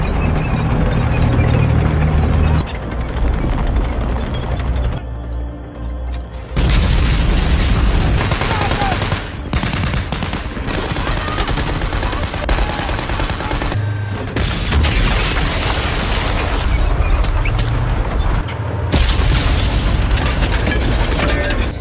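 Battle explosions and gunfire in a WWII sniper film scene with German troops: dense, loud blasts and rattling volleys fill nearly the whole stretch, with brief drops between bursts and no talk.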